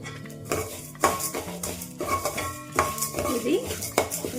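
Drumstick leaves and other ingredients dry-roasted and stirred in a pan for a spice powder, with repeated clanks and scrapes of a spoon against the metal pan over a faint sizzle.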